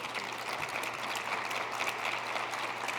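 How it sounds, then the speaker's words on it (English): Audience applause for panelists at the close of a medical school admissions panel, a steady, faint wash of clapping from a room of people heard from a distance, with no talking over it. "if you please give a round of applause to our distinguished panelists."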